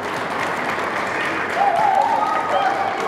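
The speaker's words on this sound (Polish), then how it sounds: "Gorące brawa. Gorące brawa." Audience applause at a rural women's association (KGW) tournament award ceremony in Bytów, a steady wash of clapping from a crowd, with a voice speaking over it partway through.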